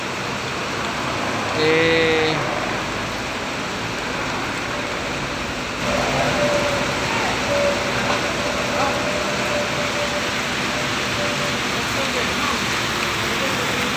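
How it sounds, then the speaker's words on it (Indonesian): Steady rain falls around a bus at departure for Medan, a constant hiss close by with a soft engine hum underneath and a brief tonal sound near the start. "Ini keberangkatan Arjuna, ini hujan ya teman-teman."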